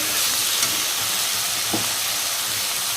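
Whole spices with cinnamon bark stirred and frying in a hot pan for an ilish fish and pumpkin-greens dish, a steady close sizzle and hiss with faint scraping of the stirring, no voices.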